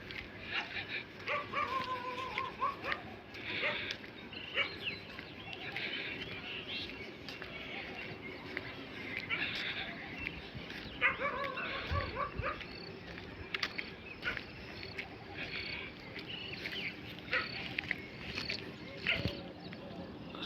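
Village dogs near a mango orchard yip, whimper and bark in scattered bursts at moderate distance, with birds chirping and faint human voices in the background.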